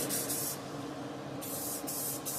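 Aerosol spray paint hissing onto a toy tractor in steady bursts, a close, breathy rush that pauses briefly and starts again, with no talk.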